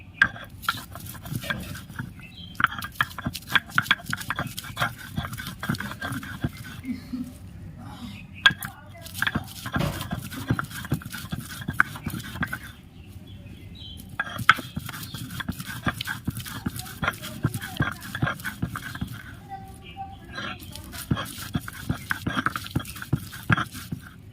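Onions are ground coarsely on a grinding stone for a green pea mash, making a steady, rhythmic scraping and thudding that pauses briefly twice before resuming.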